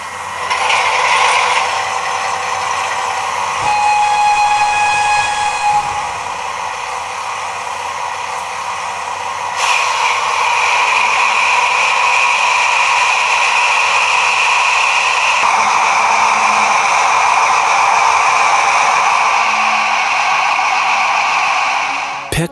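A Roco digital model diesel locomotive with large speakers in both body halves plays a gruff engine sound, a steady loud droning rumble with hissing, shifting in pitch partway through and running continuously throughout.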